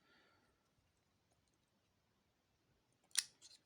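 A Sanjia K8009 folding knife blade being folded shut: a single sharp metallic click near the end, close and crisp after near silence.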